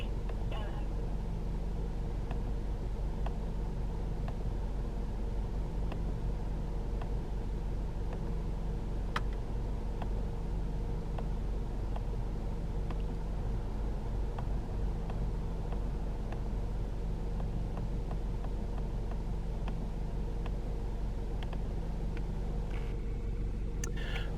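A 2017 Mercedes-Benz C200 SE sits idling, giving a steady, even low engine hum and drone that continues unchanged for the whole stretch, with a few faint ticks on top.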